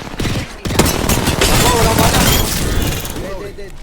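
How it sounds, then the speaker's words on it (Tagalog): Rapid bursts of video game gunfire crackle loudly and almost continuously, with a few sharper impacts, while players talk over the shooting. "Binabaril ako."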